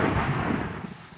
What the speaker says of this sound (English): Oh, that was lightning,